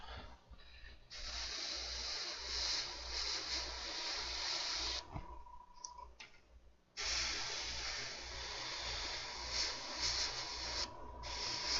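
Solvent-based automotive paint hisses from a spray can with a little reducer onto model seats taped down, two long steady bursts split by a brief pause with a faint clunk, close and continuous.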